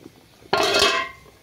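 A metal lid clanks down onto a cooking pot of simmering vegetables, one sharp ringing clink that fades over about half a second, close and loud.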